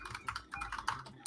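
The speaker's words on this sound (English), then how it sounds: "I hear somebody typing." Rapid keystrokes on a computer keyboard, a quick uneven run of clicks heard close up and moderately loud over a low background hum, with no talking.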